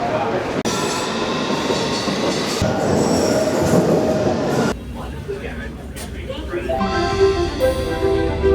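A London Underground Circle line train rumbles and rattles loudly, then its wheels squeal and clatter as it slows, with a brief change in the noise partway through and a person speaking over it.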